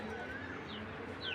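Racing pigeons at a breeder's loft coo softly at a distance, low murmuring calls over a steady background hum.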